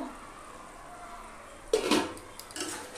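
A spoon stirs a thick prawn and banana flower curry (chingri mochar ghonto) in a pot, giving a brief scraping and clinking burst after a quiet stretch, then a softer second stir.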